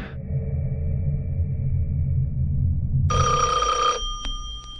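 A telephone bell rings in a horror movie promo, one loud burst of trilling over a dense, rumbling low background score, then briefly cut off.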